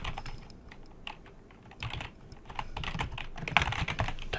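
Close, irregular tapping of typing on a computer keyboard, with bursts of keystrokes, a few louder presses near the end and no speech.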